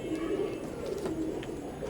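Soft, low cooing from imported Teddy pigeons of an Omani bloodline, four males kept together, with a steady murmuring coo close by and no talk over it.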